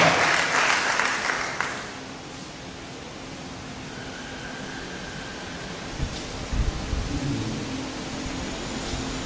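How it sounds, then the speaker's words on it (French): A church congregation applauds, a dense wash of clapping that is loudest at first and fades within about two seconds into a low murmur of room noise. "Est-ce que le peuple de Dieu peut acclamer le Seigneur Jésus pour cela"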